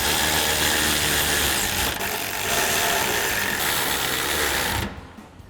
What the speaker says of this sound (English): So we're going to grab our 16mm socket and 16mm wrench